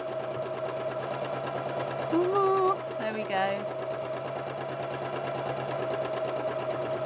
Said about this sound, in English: I'm controlling the speed of the sewing machine